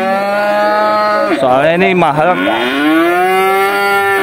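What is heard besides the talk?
cattle mooing at livestock market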